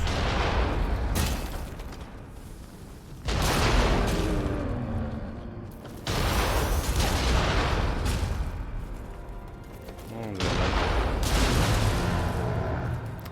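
Loud, dense gunfire and explosive booms from the action game Nioh 2, arriving in three heavy sustained bursts with brief lulls between, close and forceful, with no voices.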